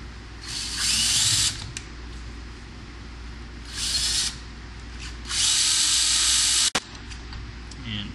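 Several bursts from a power screwdriver backing out the output jack screws on an electric guitar body: three whirring runs of about one to one and a half seconds each, close and loud, separated by short pauses and ending in a sharp click.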